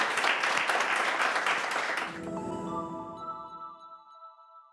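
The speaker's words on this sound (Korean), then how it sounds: "박수." An audience at a Korean corporate-culture committee workshop meeting breaks into brief applause for about two seconds. The clapping then fades out beneath sustained electronic chime tones.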